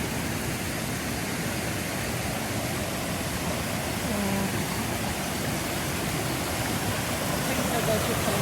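Aira Force waterfall in the Lake District, a steady broadband rush of falling water close by, constant and unbroken, with faint voices beneath it.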